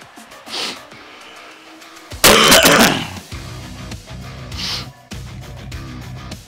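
Harsh coughing fit after eating habanero-spiced hot chocolate, a burst of loud, rough hacking coughs followed by repeated lighter throat-clearing coughs and breaths, close to the mic.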